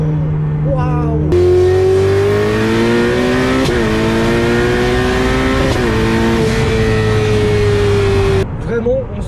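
Ferrari 488 Pista or McLaren 600LT turbocharged engine accelerating hard on the road, a loud sustained roar climbing steadily in pitch through two quick gear changes, with brief voices reacting at the start and end.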